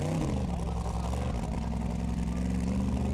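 An off-road buggy, EVA 2.0, drives at an Icelandic Formula Offroad round in Akureyri, its engine a loud, continuous low rumble and drone heard close and steady throughout.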